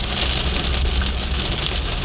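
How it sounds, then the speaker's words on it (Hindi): Heavy rain drums steadily on a car during a night drive on the road to Lahore, a loud dense hiss that fills the whole moment with no pause. "तेज बारिश एकदम हो गई है"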